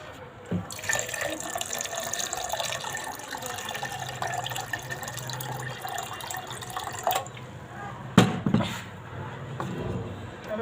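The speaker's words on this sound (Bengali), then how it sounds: "এখন পানি দিয়ে দিব।" Water poured into a blender over yogurt for making lassi, a close, steady trickling flow with splashes, a brief louder burst near the end, and faint room sound beneath.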